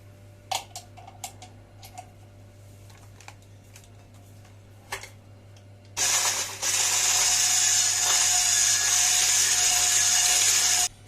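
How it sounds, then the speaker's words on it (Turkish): Electric hand mixer whipping three eggs with sugar for a dried-fruit cake batter, starting after a few clicks and scrapes and then running loud and steady, close and alone, through the rest of the stretch. "Yumurta ve şekeri iyice çırptık."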